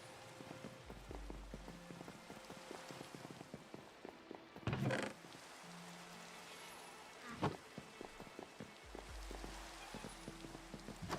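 Steady rain patters on a surface throughout, a dense continuous hiss with occasional louder knocks and thumps, and no talking.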